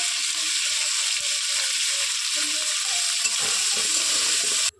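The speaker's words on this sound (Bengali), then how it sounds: "আলুগুলো এবার ভেজে নেব" Potatoes with salt and turmeric frying in hot oil, a loud continuous close-up sizzle that holds steady before cutting off abruptly at the end, no voices.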